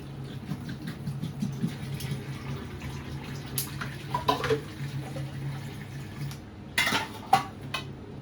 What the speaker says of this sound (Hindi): पानी है कम, पानी डलेगा और